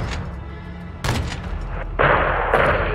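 Artillery and gunfire from the Call of Duty: Modern Warfare 2 video game, a dense barrage of loud booming shots and blasts overlapping in quick succession, with a heavier burst near the end.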